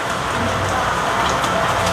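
Rain falls steadily and loudly, an unbroken dense hiss of drops hitting surfaces nearby with no voices heard.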